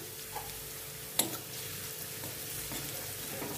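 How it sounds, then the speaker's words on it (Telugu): Chopped onions frying in a pan for Guntur gongura pickle give a steady low sizzle with faint stirring scrapes, broken by one sharp tap of a spoon against the pan near the middle. "దీన్ని ఇట్లానే బాగా ఫ్రై చేసుకోండి"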